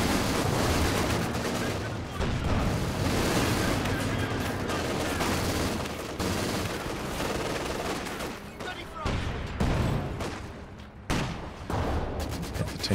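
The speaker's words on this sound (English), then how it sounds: "Panther taking a few hits from that anti-tank gun" Anti-tank gun fire striking a Panther tank in Company of Heroes 2, with repeated sharp gunshots and bursts of battle gunfire across a busy soundscape, while a commentator talks over it.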